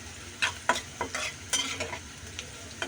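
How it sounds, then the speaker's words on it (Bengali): Onions and garlic fry in a pan for a jute-leaf dish, a steady sizzle beneath a series of short, close scraping stirs, with no talking. "পেঁয়াজ রসুনগুলো ভালো করে লাল লাল করে ভেজে নেব"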